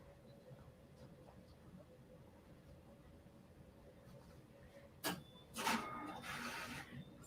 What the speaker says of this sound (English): So we might have some printer action going on.